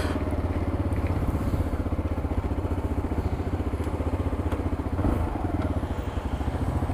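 A small Braaap Urban motorcycle from 2016 runs with a steady, close, pulsing engine putter and some rattling, heard alone and without speech.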